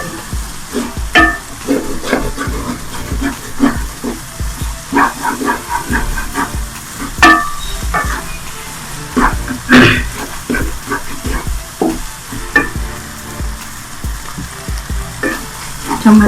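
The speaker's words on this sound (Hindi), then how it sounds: "चम्मच चलाते रहिएगा ताकि नीचे से लगे ना" Black gram lentils (dal mash) frying in a pan under constant stirring with a spoon, a steady close sizzle and hiss broken by scraping strokes against the pan bottom, loud and continuous throughout.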